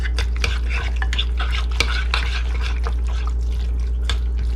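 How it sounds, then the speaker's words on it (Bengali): Chicken is mixed by hand with a pinch of salt and teriyaki sauce in a bowl, giving close, wet squelching and stirring sounds over a steady low background hum. "পিঞ্চ অফ সল্ট, একটু টেরিয়াকি সস দেই, অর্ধেকটা এখানে দিব। ওটা মিশিয়ে নিচ্ছি।"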